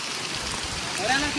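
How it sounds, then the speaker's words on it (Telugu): Heavy outdoor rain with big drops falling near a cave in the Araku hills, a dense, continuous hiss of water with a brief voice near the end. "ఇంత పెద్ద చినుకులు పడుతున్నాయి"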